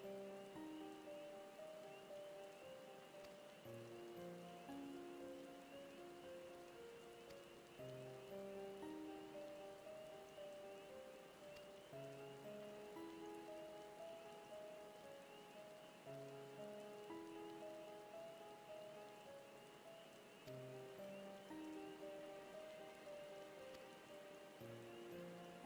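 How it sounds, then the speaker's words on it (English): Soft rain patters on surfaces in a Final Fantasy XIV cutscene, a faint steady wash beneath quiet game music that carries melodic notes throughout. "Did it just start raining mid-cutscene?"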